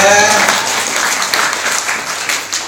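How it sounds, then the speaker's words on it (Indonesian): Congregation at an Islamic religious gathering at a pesantren applauds, a loud, close burst of many clapping hands lasting under three seconds, with a voice at the very start. "Tepuk tangan semuanya."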